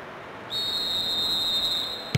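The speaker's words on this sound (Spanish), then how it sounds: "El silbato del árbitro señala el final del primer tiempo." A referee's whistle in the football video game PES 6 blows one long steady blast to end the first half, starting abruptly and holding clear and loud over a low crowd hum until a short knock at the end.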